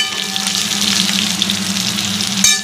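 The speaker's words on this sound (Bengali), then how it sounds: "এর সঙ্গে সোয়াবিনটাও ভেজে নিচ্ছি ভালো করে" Soybean chunks frying in oil in a pan, a loud close hiss and sizzle holding steady for a few seconds with no voices.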